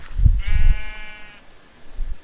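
A sheep in the Minecraft video game gives a single clear, drawn-out bleat, loud and close, following a few low thumps.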